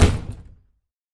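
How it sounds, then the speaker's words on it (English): Front door of an apartment thudding shut, one close, fairly loud impact that dies away within half a second, leaving silence. "The front door opens and shuts."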